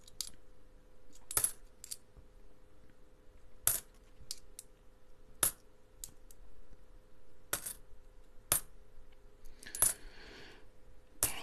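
Ten-cent coins clink and jingle as they are sifted through a pile, in sharp scattered bursts spaced a second or two apart over a faint steady hum, fairly close and with no voices.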